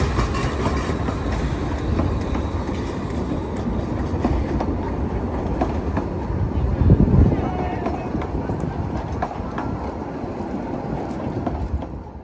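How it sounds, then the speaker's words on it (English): The Brecon Mountain Railway steam train rolls into a station with a steady mid-distance rumble and rail clatter, while people talk over the noise. "the Brecon Mountain Railway steam train arriving at the station"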